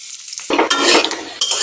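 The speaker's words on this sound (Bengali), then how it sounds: "আলু লাল লাল করে ভেজে নিয়েছি নামিয়ে নেব কড়াতে আলু ভাজার তেল ছিলই" Potato pieces fry in hot oil in an iron kadai, a dense bright sizzle that starts abruptly and keeps crackling, with scraping stirs of a spatula against the pan.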